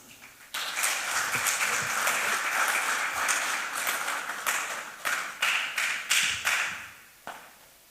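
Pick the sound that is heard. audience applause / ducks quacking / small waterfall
audience applause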